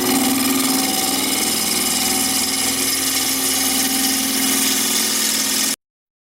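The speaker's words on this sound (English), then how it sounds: "My chisel's about as dull as they come, so I'm going to sharpen up." A steady, loud grinding whine from a power tool sharpening a dull chisel runs without pause, then cuts off abruptly near the end.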